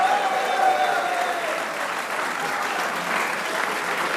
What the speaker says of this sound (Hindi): आला कारकर्दगी पे शादाब के लिए भी तालियां होनी चाहिए।